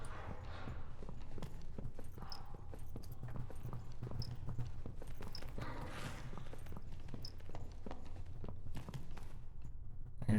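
Another player's footsteps in a survival video game: a steady run of soft, evenly spaced steps over a constant ambient wash of background noise.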